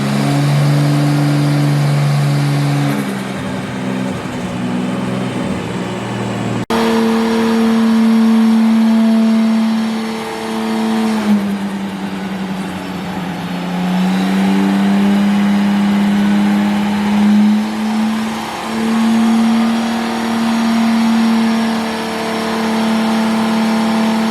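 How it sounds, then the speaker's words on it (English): A loud turbocharged RB25 engine in an R33 Nissan Skyline on a dyno holds high, droning revs with shifting pitch, rising and dipping steadily for a long stretch, no voices. "Turbo sounds great."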